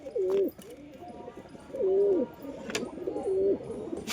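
A pigeon of a foreign-line breed kept as flying stock coos three times at even intervals, each a soft rolling phrase, fairly faint against a quiet room background.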